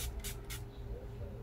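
A coconut-scented misting spray is spritzed three quick times, short airy hisses close by, over a low steady room hum.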